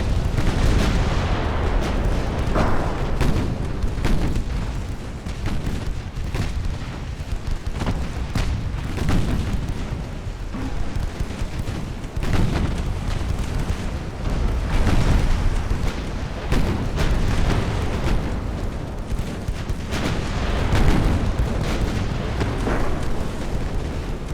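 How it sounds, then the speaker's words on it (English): Torpedo blasts and naval gunfire in the warship battle game Ultimate Admiral: Dreadnoughts, a dense, continuous rumble of deep booms and bursts rolling on without pause, loud throughout. "And that torpedo blew before it even reached it."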